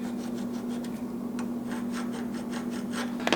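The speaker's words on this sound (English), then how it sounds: "And we're going to scribe some lines this way." A scribe scratches lines into metal during a Mustang LS swap and turbo build: rapid, repeated raspy strokes, close and fairly quiet, over a steady background hum.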